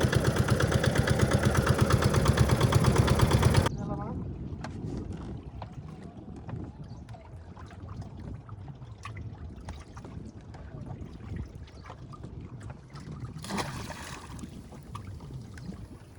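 On a tidal river in the Sundarbans, a boat engine throbs loud and close for the first few seconds, then cuts to a quieter, wind-buffeted drone with light water and handling noises, resurging briefly near the end.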